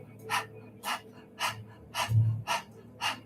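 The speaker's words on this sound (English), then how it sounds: "We're opening the mouth, sticking out the tongue," Open-mouthed panting with the tongue out during a Kundalini yoga cobra pose: six rhythmic, breathy exhalations about half a second apart, close and clear, with no talk.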